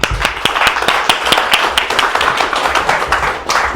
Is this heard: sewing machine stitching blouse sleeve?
no